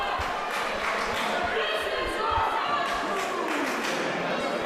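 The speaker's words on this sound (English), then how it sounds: "Slatington crowd showing their approval for this match." A wrestling crowd in Slatington fills an indoor venue with a steady, diffuse roar of cheers and chatter, punctuated by dull thumps, under a voice talking.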